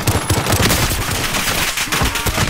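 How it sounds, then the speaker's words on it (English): Rapid automatic gunfire from a Call of Duty: Modern Warfare quads match, dense bursts of shots and booming impacts overlapping continuously at close range with no pauses. "Taking shots over here."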